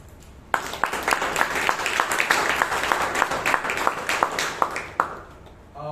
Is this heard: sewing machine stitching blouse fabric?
no